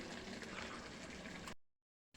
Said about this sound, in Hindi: माँ इसमें पानी ऐड कर रही है, पानी।